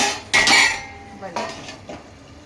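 A lid clatters onto a metal cooking pot of spicy egg curry on a stove, one sharp clang with a ringing tail followed by two lighter knocks.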